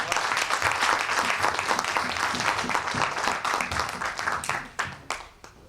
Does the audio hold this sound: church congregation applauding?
yes